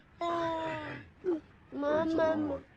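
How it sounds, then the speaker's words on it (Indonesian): A baby in a zombie-outbreak film cries in two long wailing bursts separated by a short whimper, close and fairly faint. "Andy terbangun dari tidurnya karena Rosie sang anak terus menangis"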